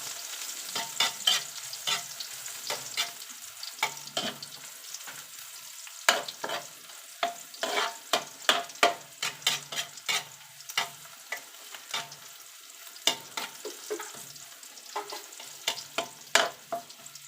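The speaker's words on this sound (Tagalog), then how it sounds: "Gigisa po natin yung bawang." Garlic sautés in a pan for a Filipino menudo, a soft sizzle punctuated by frequent sharp scraping stirs and clinks of the spatula, close and uneven, with no voices.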